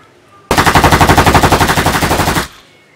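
Toy AK-47 gun firing a rapid burst of about two dozen evenly spaced sharp cracks, loud and close, running for roughly two seconds before stopping.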